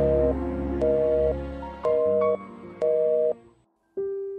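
A telephone busy/disconnect tone after a call is hung up: four evenly spaced steady beeps separated by short silences, then a fifth tone beginning after a longer gap, loud and close.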